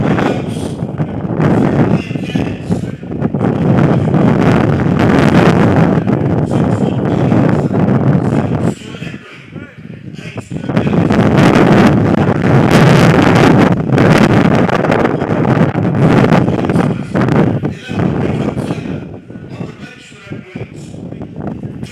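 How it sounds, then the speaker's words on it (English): Strong gusty wind blows across Butts Park Arena, a football stadium, buffeting the microphone in loud, roaring surges with a brief lull partway through, while someone talks faintly underneath. "a very, very blustery Butts Park Arena"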